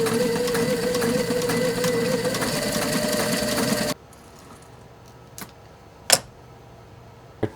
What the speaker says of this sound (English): we can make sure the sewing machine stitch is prepped and everything's going to work properly